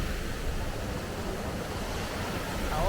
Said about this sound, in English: The waterfall's got a bit less flow than I would have expected or would have liked.